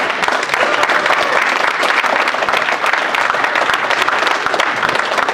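An audience in a hall claps after a keynote speech at NAPAC, a thick, continuous round of applause from many hands, strong and unbroken from start to end.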